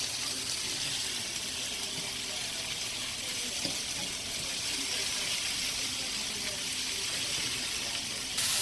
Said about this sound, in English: So I'm adding my vinegar.